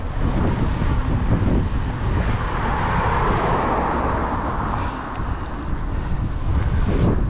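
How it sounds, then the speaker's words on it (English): Strong wind buffets the microphone in a constant loud roar, with gusty rumbling throughout and no voices. "It's been wanging it down this morning, and it is windy."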